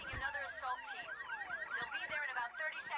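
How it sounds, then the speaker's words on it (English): A car alarm in the video game Payday 3 wails with rapidly repeating swooping and warbling tones, loud and continuous throughout, with no voices over it. "all the cars have like car alarms that sound different"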